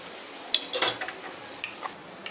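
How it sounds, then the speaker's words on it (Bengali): Spices with red chilli powder frying in a pan for a spicy Bengali chicken gravy, heard as a quiet sizzle broken by a few sharp clinks and scrapes of a spoon stirring against the pan. "তো মশলাগুলো ভাজা হয়ে গেছে,"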